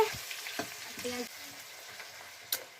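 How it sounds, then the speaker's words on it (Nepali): Fresh broiler chicken meat frying with onion in a home kitchen gives a steady, fairly soft sizzle, broken by a few light utensil clinks and one sharper metallic knock near the end. "ताजा ताजा ब्रोइलरको मासुको फ्राई हुँदैछ।"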